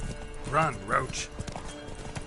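The horse Roach in a video game sets off at a gallop, and brief hoofbeats and a whinny play under a man's short spoken line and background game sound.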